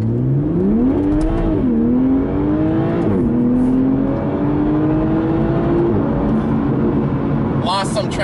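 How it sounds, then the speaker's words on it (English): Toyota GR Supra with a straight-six engine accelerating hard on a cool morning, its loud engine note climbing steadily through several gear shifts close by. "what you heard there was the true sound of the Supra"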